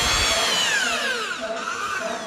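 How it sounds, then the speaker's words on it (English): A power drill fitted with a stepped drill bit bores a small 4mm hole, a loud, continuous whine with a pitch that slides downward as the bit cuts, running steadily for a couple of seconds with no talk. "I've managed to drill a 4mm hole, which is very small"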